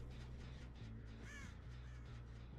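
Crows caw in Dead by Daylight, a few rasping calls rising midway over a steady low game ambience, moderately close but fairly quiet.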